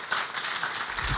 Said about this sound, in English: So please, a huge round of applause to Damian, Pete, and all the crew running this.